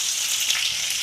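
Nigella seeds sizzle in hot oil for tempering, a dense continuous hiss of frying close up.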